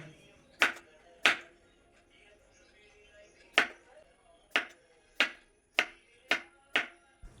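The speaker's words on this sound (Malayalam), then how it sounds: "അപ്പോൾ എല്ലാ കായും നല്ല നൈസായിട്ട് അരിഞ്ഞു കേട്ടോ" Sharp knife chops through raw plantains on a cutting board for chips, about eight crisp, close cuts in an uneven rhythm, with quiet pauses between them.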